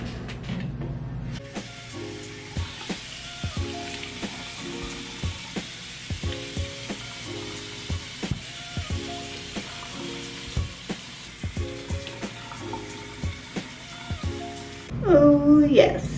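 Water runs while a face mask is rinsed off, making a continuous hiss with a string of regular splashes from hands moving through the flow, then a louder burst of splashing near the end.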